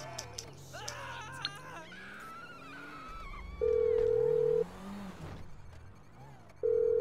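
A phone call rings out in GTA 5 as two loud, even electronic tones, each about a second long, sound a few seconds apart, with game music and engine noise filling the gaps.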